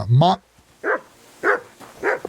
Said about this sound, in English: Why you gotta bark at people?